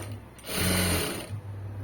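Domestic sewing machine stitching a shape belt during a tailoring job, a steady close whirring run that starts, holds for under a second and stops, with a low motor hum before and after.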